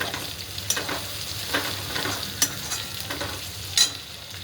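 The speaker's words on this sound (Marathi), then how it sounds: "पूर्ण तेल बरं फ्राय होते आता टाकून घेऊ आपण गाजर पण" Capsicum and carrots frying in oil in a pan for Sunday pasta, a steady close sizzle with the scrape of a spatula stirring every second or so and a few sharper clinks.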